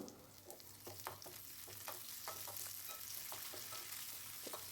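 Curry leaves hit hot oil in a pan of cassava cooked with milk, giving a soft, continuous sizzle broken by light scraping clicks from stirring, fairly quiet throughout.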